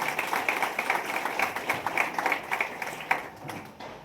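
An audience at a hospital gathering breaks into applause, a rhythmic round of claps that stays steady and fairly close before thinning out at the end.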